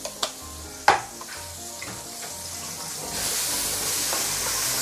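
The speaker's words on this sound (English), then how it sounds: "Don't use too high heat when you are sauteing your chili" Chili paste sautéing in a pan for fried mee siam, with a few sharp clinks of a utensil early on, then a soft sizzle that swells into steadier frying.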